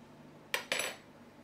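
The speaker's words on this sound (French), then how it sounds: "Là, on mélange bien nos petits légumes, les romanesco qui prennent le goût du beurre, du thym, tout ça." Two quick metallic clinks of a utensil against a pan while stirring romanesco and other vegetables with butter and thyme, close and fairly soft against a quiet background.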